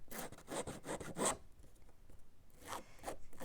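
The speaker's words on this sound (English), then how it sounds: "So I'm going to take my paper snips, open them up, and just run them down the sides" Open paper snips are drawn along the edges of cardstock to roughen them, giving a rapid run of dry rasping scrapes for about a second, then a short pause and a few quieter scrapes, close and alone.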